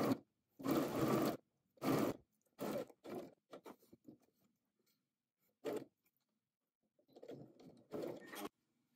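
A sewing machine stitching an under collar to an upper collar, in short separate bursts of whirring motor and needle, with a few soft handling sounds in the quiet gaps between runs.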